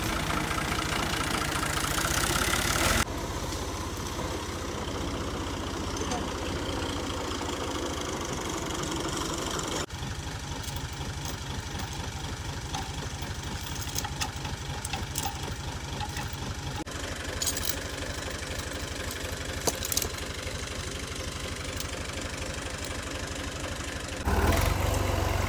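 A tractor engine running at a rural home, a steady mid-to-low mechanical drone with a faint knocking texture that continues throughout, fairly quiet and distant, with no talking.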